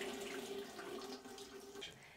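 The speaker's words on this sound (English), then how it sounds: "turn on the taps and drain the water" Water running from an opened house tap into the drain, a quiet steady rushing stream with a faint tonal hum from the pipes.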